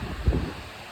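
Heavy storm rain pours down in Mahuva, Bhavnagar as a dense, steady wash of noise, swelling briefly with a low rumbling gust before settling.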